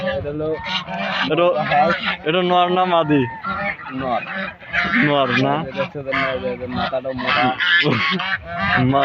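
Loud, repeated honking calls from a large duck or goose, close by, mixed in with people talking over them.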